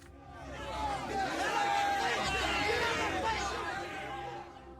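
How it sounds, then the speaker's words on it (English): An angry crowd in the Brother Brante video game roars and cries out furiously, a dense wash of many voices swelling louder through the middle before easing slightly at the end. "The angry roar of the crowd grows louder, the people's cries becoming more and more furious."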